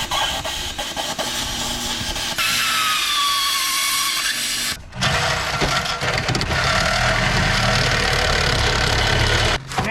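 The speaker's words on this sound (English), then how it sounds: "so I'm gonna try the plasma cutters, see if I can gouge it out enough to get them off" A plasma cutter gouges into metal on a Camaro, a loud continuous harsh hiss and roar close up, broken by two brief stops before starting again.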